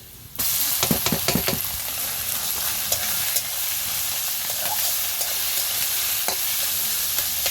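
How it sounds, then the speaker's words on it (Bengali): Chopped onions and greens fry in a hot pan with a loud, continuous sizzle, broken by sharp clinks and scrapes as a spatula stirs them. No one speaks. "নেড়ে চেড়ে ভাজা ভাজা করে নেব"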